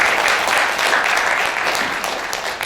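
Dense, steady applause from an audience at an Indonesian harmony forum gathering, many hands clapping together at full volume throughout with no pause.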